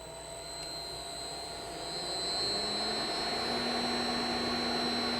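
An electric motor run by a PowerFlex drive at no load hums and whines steadily, its pitch climbing slightly as it spins up partway through, loud and continuous with no talking.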